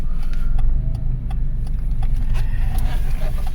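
Mitsubishi Colt Plus driving along at low speed, its engine a steady low rumble inside the cabin with faint ticking and clicks over it and no talk.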